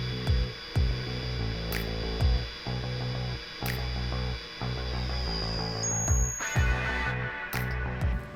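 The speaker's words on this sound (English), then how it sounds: "We will now commence with the 800 kilogram cobalt test." A four-ball extreme pressure test machine runs an 800 kg cobalt load test, producing a loud, steady mechanical whine and drone with brief repeated surges and clunks across the run.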